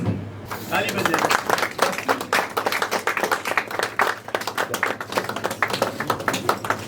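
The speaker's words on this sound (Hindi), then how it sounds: "ताली बजाइए।" A crowd at a party workers' gathering claps loudly and rapidly in a dense burst of hand claps, close and energetic, with voices mixed in beneath the clapping after a brief quiet start.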